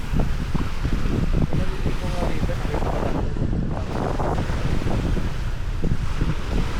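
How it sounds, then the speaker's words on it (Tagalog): Strong waves on Taal Lake churn and crash continuously with heavy wind buffeting the microphone, loud and close throughout. "Kalakas ng alon."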